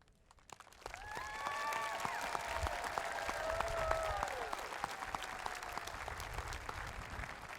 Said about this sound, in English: how about one more round of applause to recognize all of our students graduating with honors today